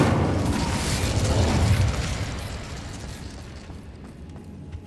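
A rumbling fiery blast from the Incendio spell in Hogwarts Legacy, a broad roaring burst that swells then slowly fades away.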